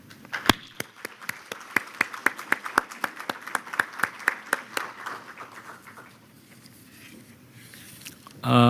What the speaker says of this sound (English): join me in expressing our gratitude with a round of applause to him